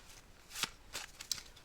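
Oracle cards shuffled for a reading, three or four soft, brisk riffling swishes close to the mic, quiet and without talk.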